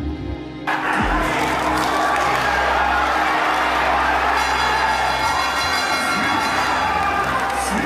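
Opposing fans at a boxing fight roar and shout continuously as a loud, dense crowd, with the cheering swelling early and holding steady throughout.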